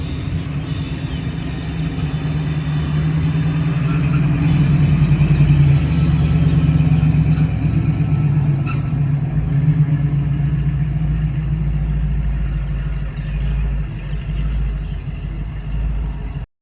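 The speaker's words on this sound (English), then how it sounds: "1969 Chevy Camaro Super Sport coming in for the car show." A 1969 Chevy Camaro Super Sport arriving at a car show, its deep engine rumble steady and loud throughout with a slight swell midway as it rolls in, no talk over it.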